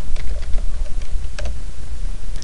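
Rapid computer keyboard typing while entering an entity name in a Left 4 Dead map editor, close and steady with irregular clusters of key clicks over a low background hum.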